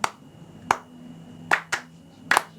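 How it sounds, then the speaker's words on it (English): Sharp hand claps in a short, catchy rhythm at a live gig, about six crisp claps in uneven groupings, fairly close and clear over a quiet background. "Because it's a really catchy clap."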